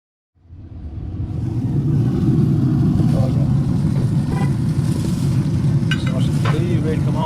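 Sausages and peppers fry on a farm in a loud, steady sizzle that swells in after a brief silence and holds with a low rumble underneath.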